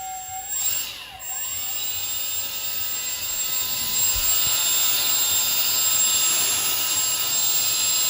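Two electric ducted fans on a 1/20 scale model XB-70 spin up, a thin rising whine that settles into a steady, fairly loud high-pitched whirring rush of air, with a brief tonal chirp at the start.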